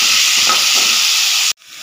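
Ground paste sizzling in hot oil with mustard seeds and dried red chillies in a Tamil snack recipe, a loud, close, steady hiss that stops abruptly near the end.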